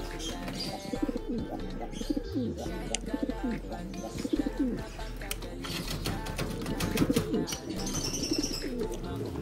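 Imported pigeons coo softly and repeatedly, with wing flutters and pecking taps close by, while a person talks intermittently over them.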